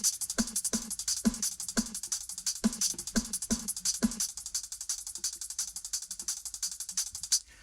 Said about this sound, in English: shakers and hi-hats go into a subgroup that I call high percussion or high frequency percussion